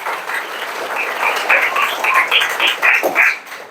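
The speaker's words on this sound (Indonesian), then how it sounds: "Tepuk tangan." A classroom of students applauds together, a dense burst of clapping that swells and pulses in uneven waves before trailing off, heard close and fairly loud with no talk over it.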